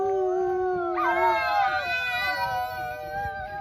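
A person imitates a wolf howl outdoors at a zoo, a sustained rising and wavering vocal call of a few seconds, fairly close and loud, with outdoor background noise.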